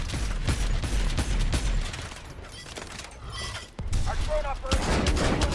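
Dense, rapid gunfire rattles through a Call of Duty: Advanced Warfare battle, close and loud volleys with mechanical clatter, a brief lull, then more shots, while a player talks under the din.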